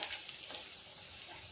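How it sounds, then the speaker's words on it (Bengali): Chicken pieces for chili chicken fried rice frying in a pan while being turned, giving a soft, continuous sizzle with light stirring scrapes, close and quiet. "চিকেনগুলো একটু উল্টে পাল্টে দিচ্ছি আমি"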